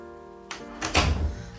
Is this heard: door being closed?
yes